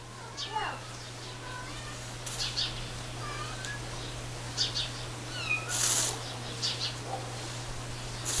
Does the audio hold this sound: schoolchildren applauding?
no